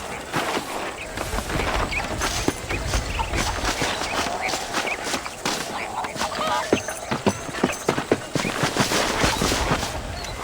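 Horse hooves in the video game Red Dead Redemption clip-clop in a steady, busy rhythm over a dense bed of outdoor game ambience, with sharp hoof strikes scattered throughout, loud and continuous.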